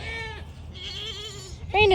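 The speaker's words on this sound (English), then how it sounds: "Same situation as Creole, FFA goat, we rescued him" A rescued FFA goat bleats in a wavering, drawn-out call, followed by a sharper, louder bleat near the end, close by with low background noise.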